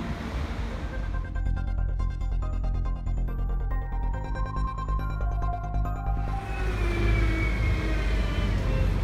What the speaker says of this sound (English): that car down there just drove past me